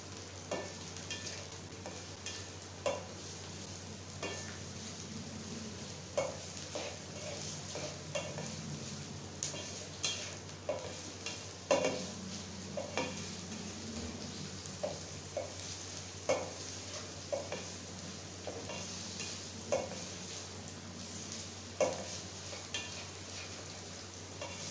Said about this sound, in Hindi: हमारे प्याज लाइट ब्राउन हो रही हैं, लेकिन हमने थोड़े से और करने हैं।